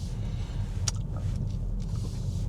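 Car pulling out of a car park, heard from inside as a steady low engine rumble and road hum that stays even throughout, with no talk.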